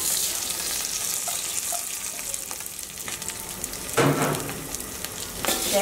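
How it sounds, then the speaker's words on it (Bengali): Biryani rice frying in a pot with browned onions for beef tehari, a continuous close sizzle broken by louder bursts of scraping and stirring near the end, with no talk. "এখন আমি বিরিয়ানির চালগুলো দিয়ে দিব"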